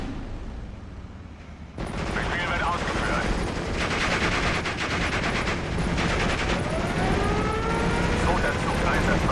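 Artillery and gunfire from the video game Steel Division: Normandy 44 crackle in dense, continuous volleys with engine rumble, loud and sustained after a brief quieter opening, while voices talk over the battle.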